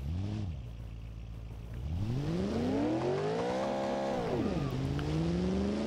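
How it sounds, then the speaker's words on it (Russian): Car engine in BeamNG.drive revving hard at a race start, pitch sweeping up, dropping, then climbing again through a long rising run, loud and close with a mechanical clatter underneath. "обороты у меня быстро набираются"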